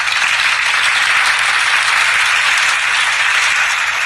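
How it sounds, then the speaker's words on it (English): Steady, loud studio applause for callers to a radio talk show, a bright, even, continuous clatter of clapping with no voices over it. "This is VOP applauding you."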